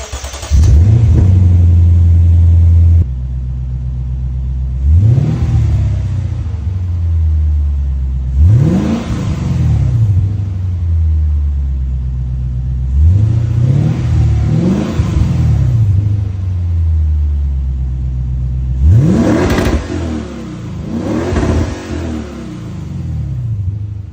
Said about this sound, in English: when the valves are open, it's practically a muffler delete